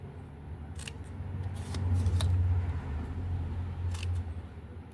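Scissors snipping V cuts into paper for an octagon gift box, several crisp, distinct close snips spaced irregularly over a low steady background hum, with no talking.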